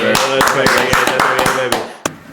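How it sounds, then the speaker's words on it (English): A small group claps for Gage at a school football season recap, sharp irregular hand claps in quick bursts over about two seconds, close and loud, ending in a final single clap. "Let's clap it up for Gage for sending the most fireside questions."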